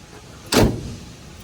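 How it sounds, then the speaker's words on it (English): The trunk of a 1991 Cadillac Brougham pops open with a single short, solid thunk, close by over a low steady background. "Pop the trunk for you."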